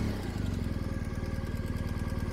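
Motorcycle engine starting and settling into a steady idle, a close, loud, even chugging pulse that runs throughout, with no voices.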